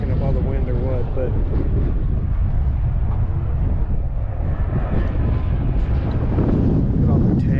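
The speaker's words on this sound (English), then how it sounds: "I don't know if this thing's picking up all the wind or what" Steady wind buffets the microphone outdoors at a drag strip, a constant rumbling roar that runs throughout, with faint voices partly buried beneath it.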